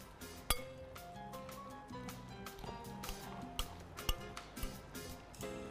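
A metal spoon clinks repeatedly against a glass bowl while stirring a mozzarella and olive filling, producing sharp, bright taps at an irregular rhythm, close and fairly quiet.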